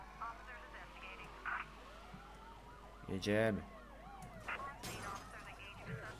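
Police sirens wail in pursuit during the Mafia 3 video game, their rising and falling tones sweeping repeatedly over engine noise and a loud crash. Someone speaks briefly over the chase.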